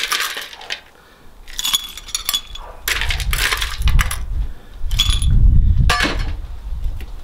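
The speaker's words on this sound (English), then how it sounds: "ice up your glass" Ice cubes are dropped into a cocktail glass for an amaretto sour, making several bursts of bright clinks and rattles with short pauses between them, close and fairly loud.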